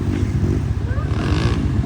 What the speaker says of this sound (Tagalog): ang daming motor yan